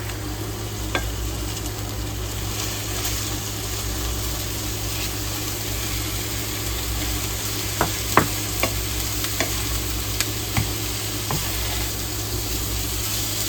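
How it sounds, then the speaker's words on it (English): Ground meat sizzles steadily in a hot pan with garlic while a utensil chops at it, scraping and tapping in scattered, irregular knocks, close by. "I think I'm going to go ahead and start chopping that meat up now"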